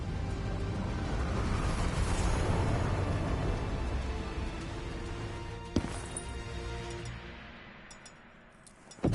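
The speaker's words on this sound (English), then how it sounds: "Hendrix, we have multiple explosions across the facility." A long, rumbling blast of video game explosions across a facility swells and slowly fades, with a sharp crack midway and another burst at the end.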